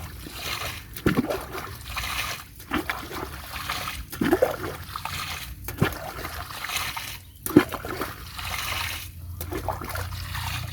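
Water being sprayed by hand over young onion plants in a field, a steady broadband trickling and splashing rush with brief louder bursts, mostly alone with faint background sound.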